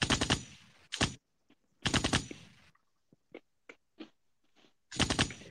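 Bursts of rapid automatic gunfire come in three loud volleys, with near silence between them and a few faint scattered pops.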